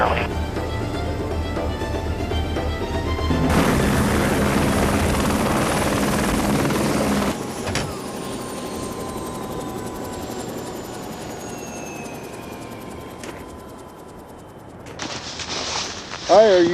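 A police helicopter lands in snowy Alaska, its loud rotor and turbine roar swelling and then winding down with a falling whine, followed by a brief rustle at the end.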